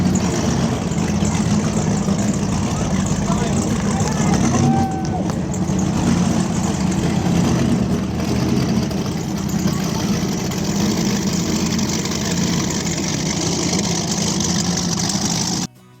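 Big-power engines on a 2002 37-foot Stiletto powerboat rumble steadily and close for the whole stretch, a dense low growl with no talk over it.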